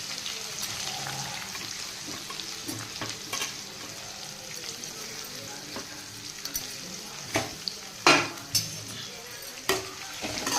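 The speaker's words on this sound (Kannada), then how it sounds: "ಅದಕ್ಕೆ ಚೆನ್ನಾಗಿ ಫ್ರೈ ಮಾಡಿ." Onions frying in oil with mustard seeds and greens in a pan give a steady sizzle, broken by repeated scraping stirs and a few sharp utensil clinks against the metal toward the end.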